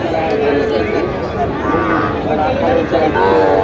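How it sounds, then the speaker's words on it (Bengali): Sahiwal cattle give drawn-out moos at a busy livestock market at Panchbibi, loud and near, layered over crowd chatter and voices talking. "এখানে আমরা দেখতে পাচ্ছি সাত পিস গরু"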